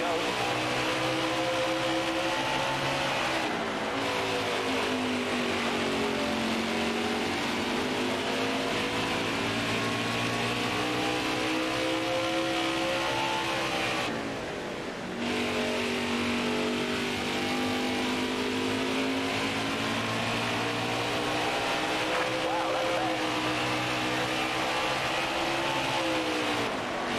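Racing-game car engine roars steadily and loudly throughout, pitch sweeping up and down with acceleration and shifting during a laps race, with faint voices occasionally under it.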